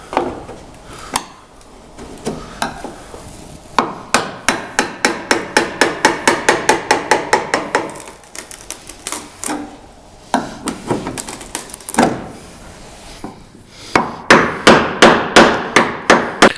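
Rapid metallic hammer blows on car body metal while installing 1961-62 rear quarter panels with 1-inch flares ring out in quick repeated bursts, loud and close, with short pauses between strings of strikes.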